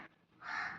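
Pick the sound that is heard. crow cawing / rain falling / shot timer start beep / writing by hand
crow cawing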